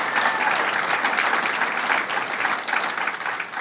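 A crowd applauds a public official at a property tax cap event on Long Island, steady dense clapping holding evenly throughout with no voices over it.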